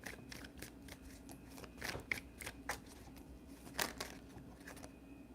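Tarot cards are shuffled up close, a quiet run of soft riffling and flicking bursts with a few sharper snaps, irregular in rhythm and faint.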